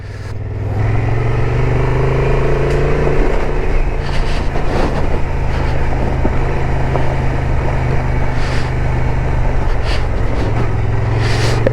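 A Honda XL750 Transalp engine pulls steadily at low revs, around 2000 RPM, while climbing a gravel uphill. The loud, continuous drone holds close and even throughout, with faint wind and gravel noise and no talking.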